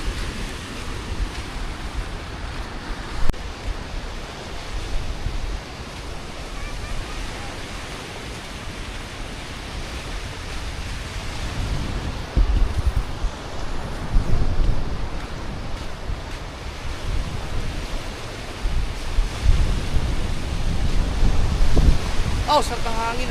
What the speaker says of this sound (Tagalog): Oh, sarap ng hangin ah.